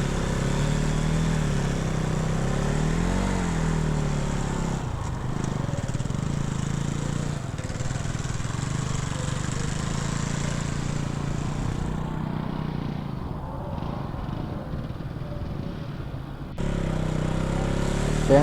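A 200cc motorcycle engine revs continuously during a drift attempt on sand, a steady mid-pitched drone with rising and falling throttle swells and a brief cutoff near the end.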